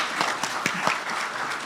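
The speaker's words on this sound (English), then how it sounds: "can we give him a warm round of applause?" A lecture audience applauds warmly at the close of a public talk, a dense, steady wash of many hands clapping together, continuous and fairly loud throughout.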